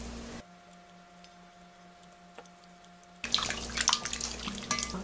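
Kyoho grapes rinsed under a running kitchen tap, with a low steady hum giving way to a loud, splashy rush of water with irregular splatter and drips toward the end, with no talk.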